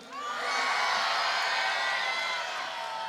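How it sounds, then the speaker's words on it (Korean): A large outdoor crowd at the opening ceremony of the Naeseo Gwangryeo cultural festival cheers and shouts together, a loud sustained roar with high voices that swells quickly and holds for about three seconds. "소리 한번 다시 질러 주세요."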